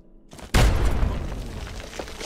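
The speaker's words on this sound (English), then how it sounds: "Man, you could sure take an explosion, Charon." An explosion in the video game Fallout 3 hits suddenly after a short quiet lead-in, a loud low boom that rumbles and slowly decays over about two seconds.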